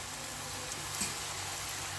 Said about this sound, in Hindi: थोड़े से उसमें डाले हैं ताकि मैं फ्राई कर सकूं